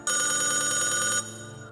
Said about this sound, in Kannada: ಫೋನ್ ಬಂತು ತಡಿ